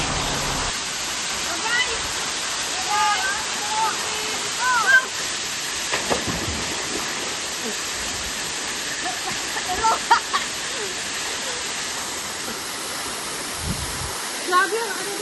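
A waterfall at a mountain stream pours as a steady, broad rush of water throughout, with people talking and exclaiming over it now and then.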